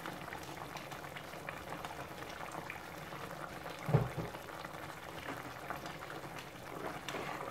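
Sauce for a jibarito simmering and thickening in a pan alongside steak, a continuous bubbling boil with one brief louder knock midway.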